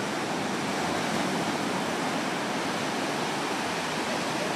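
Ocean waves break on the shore at Myrtle Beach, making a continuous broad roaring wash of surf that stays steady and loud throughout.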